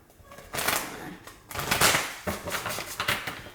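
Tarot cards are shuffled by hand in a few quick riffling bursts, a crisp papery flutter that comes and goes in short bursts, fairly close and quiet.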